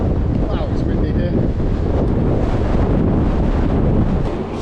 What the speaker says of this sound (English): Wow, it's windy here.